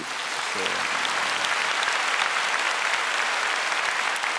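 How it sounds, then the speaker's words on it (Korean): Congregation of a church applauding in encouragement, a steady dense wash of many hands clapping filling the whole span, with a brief voice near the start. "일본의 특별히 야마토 갈보리 교회 교인들에게 한번 격려의 박수 한번 해주세요"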